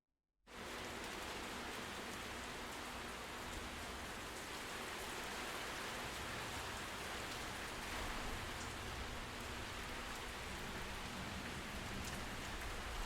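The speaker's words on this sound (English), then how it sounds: "Distant thunder?" Steady rain in a sound effect, a dense, even hiss of drops on a surface that runs without a break after a brief silent start, with only the faintest low rumble of distant thunder.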